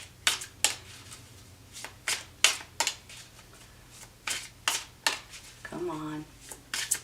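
Tarot cards being shuffled in a quiet room, a series of crisp, close riffling bursts at an irregular pace, with a brief spoken phrase near the end.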